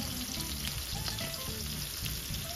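Shrimp fry in a hot pan with a steady, dense crackling sizzle, fairly faint overall, with soft irregular knocks from handling underneath.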